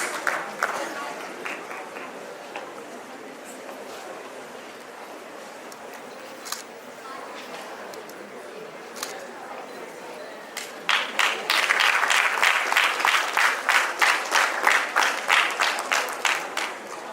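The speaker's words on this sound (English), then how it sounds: "Please give them a big round of applause." Audience applause at a school awards ceremony, starting as scattered claps under background murmur and swelling into a denser round of clapping in the second half.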